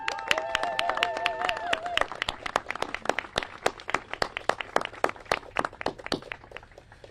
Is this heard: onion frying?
no